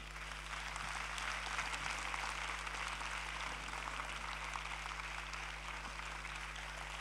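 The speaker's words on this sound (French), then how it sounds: "Je vous demande d'applaudir." An audience at the closing ceremony of the Festival Atmosphères 2015 applauds for its guest of honour, a steady, faint, distant wash of many hands with no voices over it.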